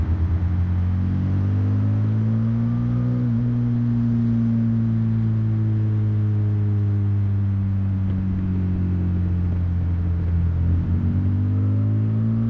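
Suzuki V-Strom 650 motorcycle ridden along a road on Tenerife, a steady, loud engine drone with smoothly rising and falling pitch as the throttle shifts, continuous and close throughout with no talking.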